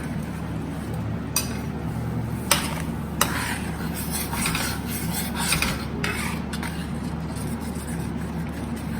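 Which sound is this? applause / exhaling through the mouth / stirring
stirring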